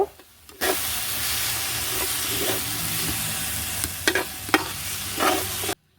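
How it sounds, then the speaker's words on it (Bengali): Raw potatoes stirred with salt, turmeric and chili powder in a pan, a steady close sizzling hiss with a few louder scraping stirs near the end before it cuts off. "ভালোভাবে আমি আলুর সাথে এই মশলাগুলোকে মিক্সড করে নিব"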